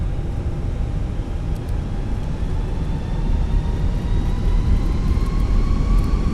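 Airliner jet engines spooling up in Microsoft Flight Simulator during a jetBlue takeoff roll, a loud steady roar with a rising whine slowly climbing in pitch and growing slightly louder, with no talk.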